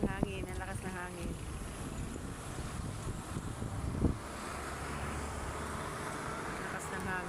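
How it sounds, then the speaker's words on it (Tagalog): Strong wind buffets the microphone at an outdoor food park with a constant roaring rush, while a person talks briefly near the start. "Ay, ang hangin. Ang lakas ng hangin."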